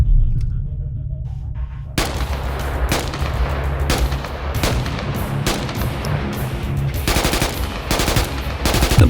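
Bursts of rapid automatic fire from a QBZ-191 assault rifle in the military shooter Squad, loud and close, mixed with heavier distant booms and cracks throughout.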